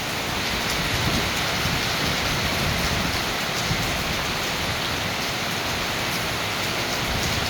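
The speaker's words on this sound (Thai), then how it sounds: "ฝนตกแรงมากเพื่อนๆฟังเสียงฝนนะจ๊ะ" Heavy rain pours continuously, a dense, loud hiss of water splashing and running off a roof with no voices.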